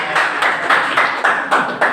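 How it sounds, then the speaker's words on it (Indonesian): A classroom of students claps in a steady rhythmic pattern, sharp bursts repeating about every quarter second, fairly close and loud. "Tepuk tangan untuk kalian semua."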